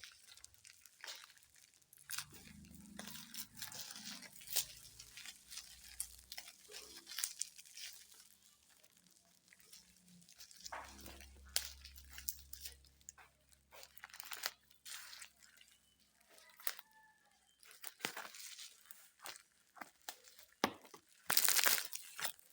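A tightly wrapped parcel, heavily bound in packaging, is torn and crinkled open by hand in a run of irregular rips, crunches and crackles at close range, broken by pauses and a few low thumps, ending in a loud tearing burst.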